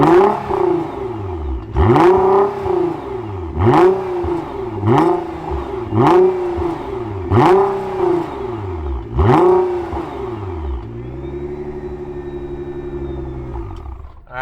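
A 2018 Nissan GT-R engine fires up and revs hard, roughly seven sharp throttle blips in a regular rhythm, each rising to a roar and falling back, before settling into a lower idle.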